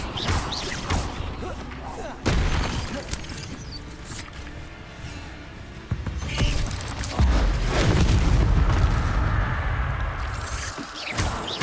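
Explosive Bombarda and Confringo spells go off in the Hogwarts Legacy game, a run of heavy booms, thuds and crashes, some with a whooshing rush, landing at irregular intervals across a loud, busy battle.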